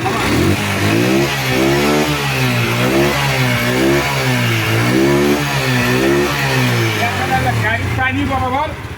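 A Dayang 80cc motorcycle engine revs loudly and close, its pitch climbing and dropping in repeated throttle swells over a steady idle, then easing off near the end.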